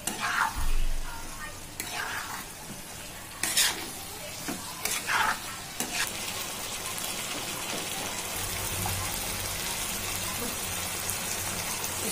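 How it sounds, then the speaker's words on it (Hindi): Onion and chickpeas stirred into fried masala for spicy chole, several loud scraping strokes in the first six seconds, then a steady close frying sizzle on its own. "अब इसमें हम डालेंगे ये प्याज और चना, दोनों को अच्छे तरीके से मिक्स करना है"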